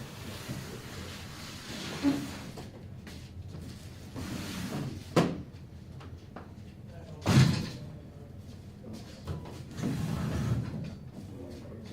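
Doors are shut in a committee meeting room, with a few dull thumps and knocks, two of them louder, over a low background murmur of room noise.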